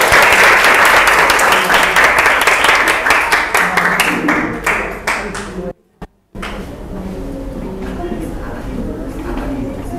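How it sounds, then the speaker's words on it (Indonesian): Classroom applause for the first student group, a dense burst of many hands clapping that tapers off, breaks briefly, then gives way to murmuring and a voice speaking. "Tepuk tangan untuk kelompok 1 dulu"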